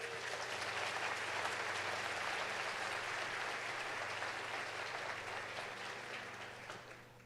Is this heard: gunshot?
no